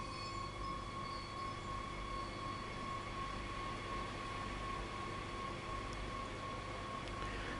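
A train in Train Sim World on PS4 moves off after its brakes are released, giving a steady, continuous rumble and hum with a faint high whine that holds at one level throughout, with no talk.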